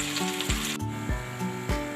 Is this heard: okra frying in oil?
yes